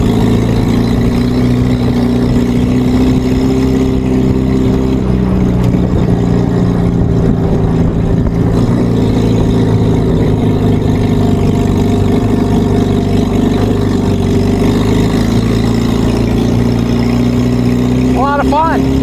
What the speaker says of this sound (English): there's drive-by, and we'll try to stay in camera shot here